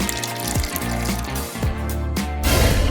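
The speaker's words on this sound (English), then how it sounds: "It's our special tub. Add water." Water runs steadily into a special tub during a cardboard Bikini Bottom craft build, a continuous rushing pour that swells louder near the end, with no talking over it.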